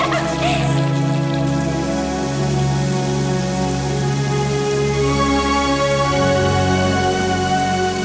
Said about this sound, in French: Il pleut, ça y est! Il pleut, regarde!